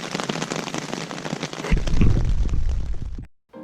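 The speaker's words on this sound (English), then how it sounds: "Hopefully it stops raining before the hike tomorrow." Rain falling on a campground at Little Todd Harbor on Isle Royale during a storm, a dense loud patter that swells with heavier drops midway before cutting off abruptly.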